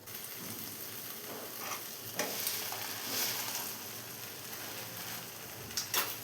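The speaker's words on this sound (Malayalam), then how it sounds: "ഇനി ഇതെല്ലാം കൂടെ നന്നായി ഒന്ന് മിക്സ് ചെയ്തെടുക്കണം" Soya chunks stirred and frying in a hot pan for a dry roast, with a steady sizzle under repeated scraping strokes of a spoon or spatula, close and continuous with no talking.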